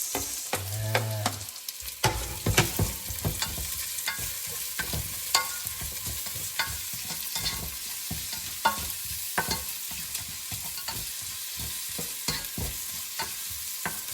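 Onion sizzles steadily in hot oil in a pan for tinolang manok while a utensil scrapes and stirs in frequent irregular clicks and taps, close by and without talking.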